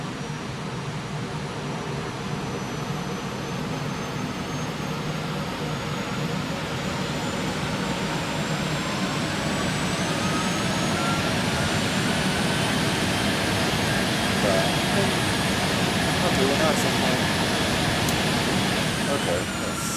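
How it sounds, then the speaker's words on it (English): Simulated airliner jet engines roar steadily at high power in reverse thrust during a pushback in X-Plane 11, a broad continuous rush with a faint rising whine, loud throughout. "do a little bit of a 1970s pushback, using some good old reverse thrust"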